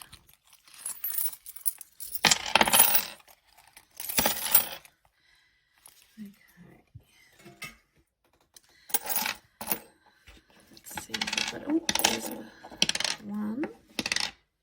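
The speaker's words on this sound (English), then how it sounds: "I do have some coins this week." Coins from a weekly cash-stuffing savings count clink and drop in separate bursts, some single taps and some rattling clusters, close by with quiet pauses between.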